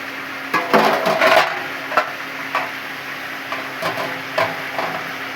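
Shrimp and Malabar spinach stirred in a pan: a utensil clatters and scrapes against the metal in several separate strokes over a soft steady sizzle, close up, no voices.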